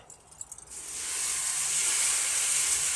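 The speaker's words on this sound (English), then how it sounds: "Got a little sizzle going on." Corned beef sizzles on the center grate of a smoker, a steady close hiss that swells after a few faint crackles and then holds evenly.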